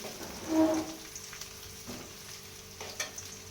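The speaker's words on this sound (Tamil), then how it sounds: "வெங்காயம் வதங்கினோடனே பச்சை மிளகா போட்டுருவோம்." Onions and green chillies fry in a pan, a soft steady sizzle with faint stirring scrapes, fairly quiet and without voices.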